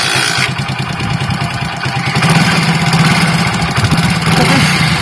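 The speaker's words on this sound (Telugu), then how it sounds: "బండి అయితే స్టార్ట్ అయింది" A motorcycle engine running on homemade cow-dung biogas from a mini home biogas plant, a steady close idle that rises and holds a fuller chug partway through, with no speech over it.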